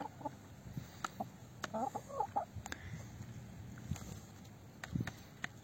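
Hens cluck close by in short, soft bursts scattered over a quiet farmyard background, with a few sharper clucks and scratching sounds between them and no talk.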